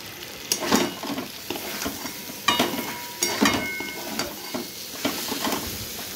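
Fried prawns, potato and pointed gourd being sautéed in a pan: a soft background sizzle broken by repeated scraping bursts of stirring every second or so, with no talking.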